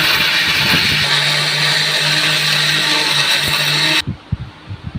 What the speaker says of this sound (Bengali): এবার এটা আমি গ্রাইন্ড করে নেব।